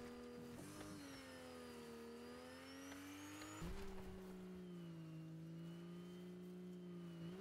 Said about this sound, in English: God, this car is slow.